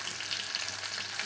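Bhokua fish frying in a hot pan for a fish and bottle gourd curry, giving a steady, dense sizzle and crackle that holds evenly throughout with no voices.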